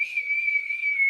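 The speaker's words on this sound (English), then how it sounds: "That's my whistle, guys." A single clear, steady whistled note held at an even pitch for about a second, close and fairly loud, with no talking.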